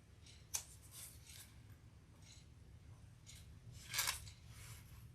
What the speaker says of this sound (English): just clip those off